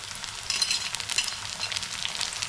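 Tomatoes go into browned onion frying in oil for a kantoli vegetable dish, and a close, steady sizzle rises and falls with bursts of crackle, with no voices.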